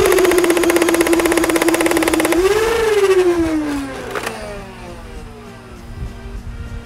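A modded Khaos foam-ball blaster firing in super mode, a loud close motorized whine that holds steady, then drops in pitch and winds down while a rapid stream of shots rattles out.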